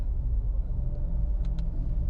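A Mitsubishi Xpander drives along, heard from inside the car as a steady low engine and road rumble with faint ticking clicks.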